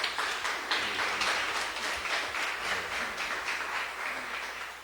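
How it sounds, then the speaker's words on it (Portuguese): A church congregation claps during a Sunday morning service, a steady dense burst of hand claps that fills the room and tapers slightly toward the end. "Pode bater palmas."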